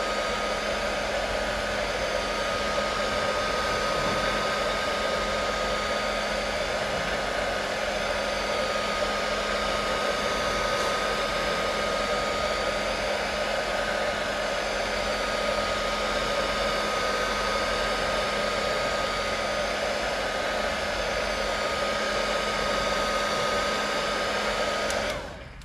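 A heat gun blows a constant, loud whirring hiss as it warms the adhesive behind a truck emblem on a single cab dually pickup, running steadily without a break and with no talking.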